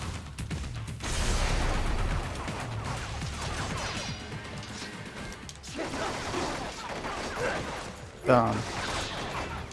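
Turret gunfire rattles in rapid bursts in Metal Gear Rising: Revengeance, mixed with crashes and impacts against a busy game soundscape. Someone talks over part of it.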